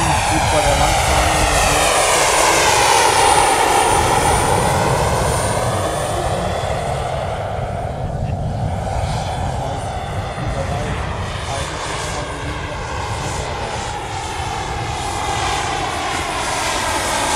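Radio-controlled model helicopter flying at a model aircraft airshow, a loud continuous rotor and engine drone with shifting pitch that stays close throughout, while an announcer talks over it.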